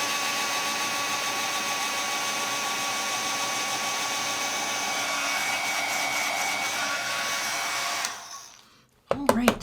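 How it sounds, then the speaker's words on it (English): A craft heat tool blows steadily at close range for about eight seconds, a loud even whooshing roar while melting embossing powder on a handmade card, then cuts off abruptly, followed by a couple of brief handling knocks. "let's get our heat tool warmed up and melt the powder"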